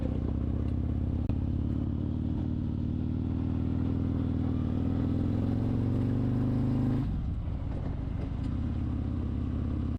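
Low, rumbling V-twin of a 2018 Harley-Davidson Street Glide out on the road, droning steadily with the pitch slowly climbing, then the note drops sharply as the throttle eases off about two-thirds of the way through, with wind noise throughout.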